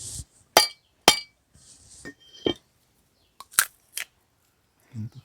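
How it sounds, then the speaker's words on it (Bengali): A small coconut being cracked open, several sharp, hard knocks and clinks spaced irregularly, close and loud against near silence, with faint handling sounds between strikes. "একটা ছোট নারকেল নিয়েছি, ফাটিয়ে নেব।"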